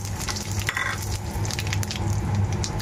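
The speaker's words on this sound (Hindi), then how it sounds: "कढ़ाई में मैंने थोड़ा सा ऑयल डाल दिया है और इसमें हींग, जीरा और तेज पत्ता डाल दिया।" Asafoetida, cumin seeds and bay leaf sizzle in hot oil in a kadhai, a steady crackling fry with small pops throughout.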